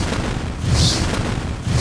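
Incineration card fire spell from the video game Runes of Aereal, dealing fire damage to all creatures: a steady rumbling roar of flames with low booming swells, loud and continuous for about two seconds.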